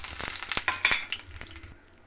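Bay leaf, five-spice seeds, dried chilli and a pinch of asafoetida crackle in hot oil in a pan, with a few sharp spits and pops early on that settle into a quieter sizzle.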